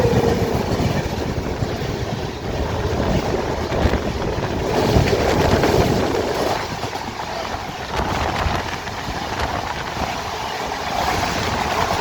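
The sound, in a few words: train passing Nagpur outer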